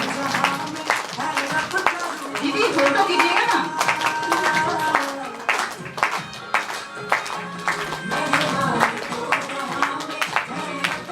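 An audience clapping at a gathering, with sharp, irregular hand claps under ongoing talk and singing-like voices, the claps coming in uneven bursts, nearby and moderately loud.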